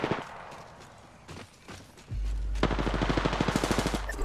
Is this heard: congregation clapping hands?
no